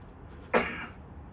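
A single sharp cough from a person with a lingering cough and weak lungs, fairly close and brief, standing alone over a quiet background.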